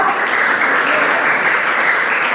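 A classroom of students applauds group 2 after its presentation, a steady, fairly loud wash of clapping that holds evenly throughout.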